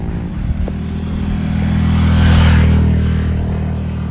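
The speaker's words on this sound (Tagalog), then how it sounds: "Kaya binobomba-bombahan lang ako ng mga motor na nagdadaan dyan." A motorcycle passing on a rural road near fields, its engine rising to a loud close rev and drone at the midpoint, then fading away, with some clatter underneath.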